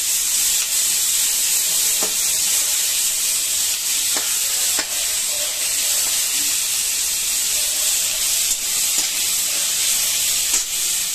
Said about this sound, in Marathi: टोमॅटो आणि कांदा व्यवस्थित परतून घ्यायचा आहे।